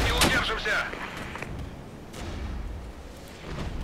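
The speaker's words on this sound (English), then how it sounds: "the artillery is only helping" Artillery fire in the Regiments game during a Soviet assault, a few heavy thuds and sharp blasts spaced irregularly, mid-distance, with battle noise rumbling underneath and a voice talking over part of it.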